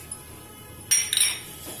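A metal spoon adds two spoonfuls of oil to a cooking pan on the stove, giving a couple of quick, bright clinks against the pan in a quiet kitchen.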